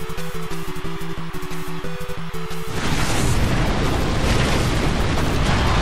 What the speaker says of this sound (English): Rock Slide tumbles down.